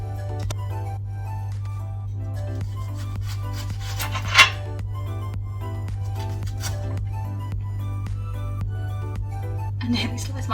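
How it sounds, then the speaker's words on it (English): A knife chops onion on a cutting board in a quiet, scattered series of light taps with one sharper knock, heard over a steady background hum. "this is why I don't like cutting onion"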